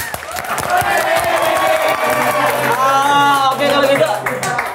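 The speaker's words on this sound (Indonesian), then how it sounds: "Coba tepuk tangannya mana tepuk tangannya?" A studio audience at an Indonesian talk show claps and cheers loudly and steadily for several seconds, with shouts and voices mixed into the dense applause.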